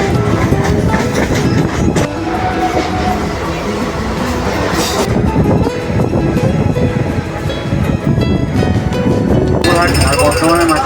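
Padatik Express train running on the rails toward Bardhaman, a loud continuous rumble with rhythmic clickety-clack of wheels and wagon rattle heard from inside the carriage, a voice speaking over it.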